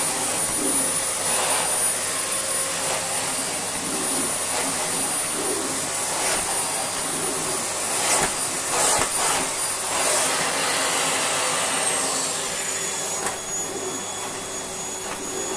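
Miele C3 Powerline vacuum cleaner running on carpet: a steady, loud, high-pitched suction whine with rustling brush noise, dipping slightly in pitch near the end, close by and with no talk.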